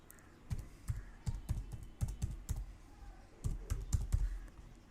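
Quick, light keystrokes on a computer keyboard come in short bursts of clicks, close and fairly soft, with brief pauses between groups and no voice.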